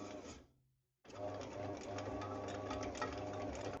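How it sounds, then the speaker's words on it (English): A Panasonic SD-YR2550SXC auto bread maker runs its motor to knead dough, making a loud, close, continuous mechanical whir with a rhythmic churning beat after a brief pause, and a voice can be heard under it. "it's mixing it like a proper dough machine"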